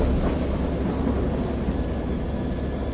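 A thunderstorm effect from the horror game Dagon: deep, rolling thunder rumbles heavily at the start and keeps grumbling beneath a steady hiss of rain.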